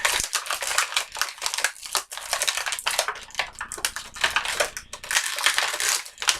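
Plastic blister packaging on a Red Robin DC Multiverse action figure is snipped and pulled free, with close, crisp cutting and loud crinkling and crackling of the plastic that continues throughout, with no talking.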